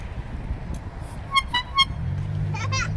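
A toy horn on a child's new scooter toots three quick electronic beeps, followed by a short burst of higher beeps, close by over a low hum and the background noise of a home.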